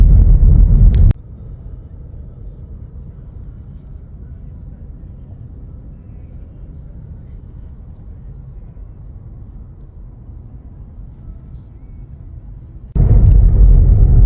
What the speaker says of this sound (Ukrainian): Ми вже їдемо по селу.